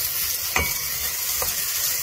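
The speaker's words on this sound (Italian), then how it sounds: "Rosoliamo un minuto" Diced guanciale and freshly cut wild asparagus sizzle and fry steadily in a pan, a dense continuous crackle with a couple of stirring scrapes, close and without talk.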